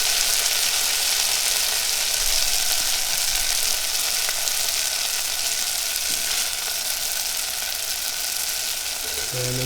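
Washed, dried strands fry in a pan until crispy, a steady loud hiss and crackle of hot oil running without a break, with no speech.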